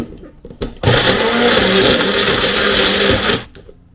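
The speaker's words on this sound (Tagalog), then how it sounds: "I-blend ko lang siya." Kitchen blender whirring through peeled, chopped ingredients, a loud steady motor hum that starts abruptly after a few clicks, runs about two and a half seconds and cuts off.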